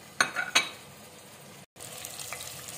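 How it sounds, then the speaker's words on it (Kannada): Whole spices such as cinnamon frying in oil for a country-style mutton biryani: a quiet, low sizzle with two sharp scraping stirs near the start, a brief dropout, then the soft frying resumes. "ಎಲ್ಲ ಸ್ಪೈಸಸ್ ಎಲ್ಲ ಹಾಕೊಂತಾ ಇದೀನಿ ನಾನು ಸ್ವಲ್ಪ ಫ್ರೈ ಆಗಲಿ"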